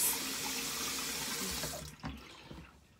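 Water running from a tap into a sink, a steady loud rush that stops partway through, followed by a few faint knocks and handling sounds.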